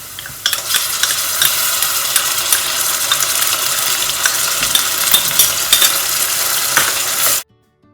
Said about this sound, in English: Now that the onions have fried really well, I'm going to add in a ginger garlic paste.